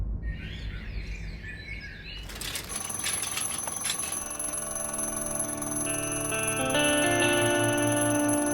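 An alarm clock starts after a couple of seconds of chirping birds, then rings continuously and loudly with layered, sustained electronic tones.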